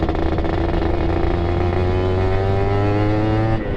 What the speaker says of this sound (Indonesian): Jadi sekali kita tahan gas, langsung dia langsung lari guys.